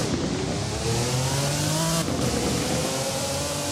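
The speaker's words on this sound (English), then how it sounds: "Best sounding I have is the HCR 15. So let's go ahead and hear the startup of this." Jaguar HCR 15 from 1991 in the Driving Empire driving game, engine running with a steady drone and rising revs, loud and continuous throughout with no talking.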